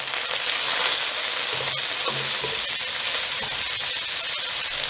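Sliced carrots, capsicums and cooked broccoli sizzle steadily in a hot pan for an Indomie noodle dish, a continuous close frying hiss with occasional light stirring clicks and no talk.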